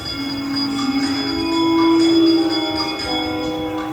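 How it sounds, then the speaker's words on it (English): A bell rings on the Haunted Mansion ride at Disneyland with a sustained, resonant tone that swells and fades over a few seconds, with bright overtones hanging in the air. "Ringing the bell."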